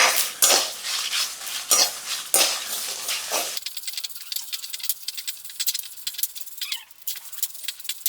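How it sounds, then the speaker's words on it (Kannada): Fenugreek seeds dry-roasting in a pan, with bursts of metallic scraping and stirring clatter from a spoon against the pan, followed by a lighter, irregular patter and tapping of seeds as they toast. "ಕಾಲು ಚಮಚ ಕಾಳು ಇದನ್ನ ಎಣ್ಣೆ ಹಾಕ್ಬೋದು ಡ್ರೈ ರೋಸ್ಟ್ ಮಾಡಬೇಕು"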